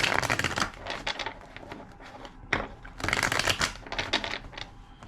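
Tarot cards riffle and shuffle in quick rustling bursts, two main rounds of close, crisp flapping with short pauses in between.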